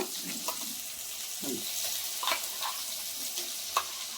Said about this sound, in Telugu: ఈ కొబ్బరి పేస్ట్ కూడా కొంచెం పచ్చివాసన పోయేదాకా వేయించుకున్నామండి